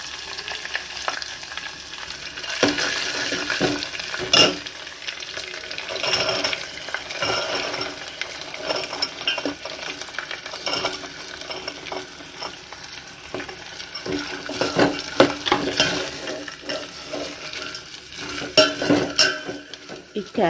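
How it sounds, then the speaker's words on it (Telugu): Carrots fry in hot oil with ginger garlic paste for carrot rice, a steady broadband sizzle with frequent stirring scrapes and clinks of a utensil against the pan, close and fairly loud, no voices. "మనం కట్ చేసుకుని ఉంచుకున్న క్యారెట్ కూడా వేసేసుకుని ఫ్రై చేసుకోవాలి."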